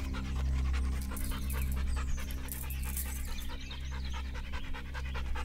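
A dog pants rapidly and steadily in a suburban neighborhood, close and continuous, over a low rumbling background.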